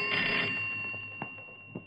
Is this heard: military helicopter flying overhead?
no